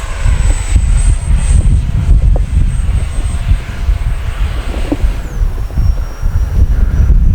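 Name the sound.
Freewing L-15 64mm EDF RC jet flying at full speed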